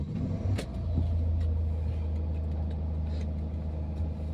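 A car drives along on the way home under overcast skies, its engine a steady low rumble heard from inside the cabin, with faint road noise and a few small knocks and clicks; no one speaks.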